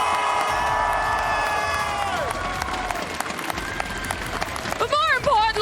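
Loud arena crowd at the VCT EMEA 2026 Stage 1 Valorant finals cheers and shouts for Team Heretics, a dense sustained roar with whoops and a few rising individual yells near the end, voices mixed in.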